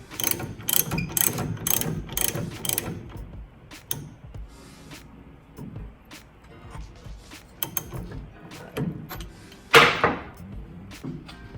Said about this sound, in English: I'm going to use the ratchet in the socket